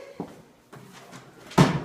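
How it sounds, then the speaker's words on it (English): An object gets accidentally knocked over indoors: a soft knock, a scrape and some light clatter, then one louder thump at the end. The sounds are brief and fairly close, with no talking. "Oops, I'm sorry. Always knocking stuff over."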